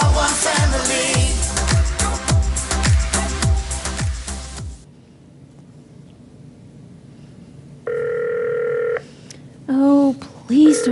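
Loud rhythmic music fades out, then a telephone dial tone sounds, followed by a ringing tone on the line, a blend of staged drama and phone effects.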